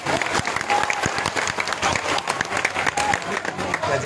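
A crowd at a political rally breaks into loud, dense applause that carries on the whole time. Scattered voices and crowd noise mix into the clapping.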